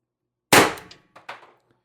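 A TR50 air rifle on 90 g CO2 gives one sharp close crack, followed by two softer, quick knocks as the pellet strikes the target, all inside about a second.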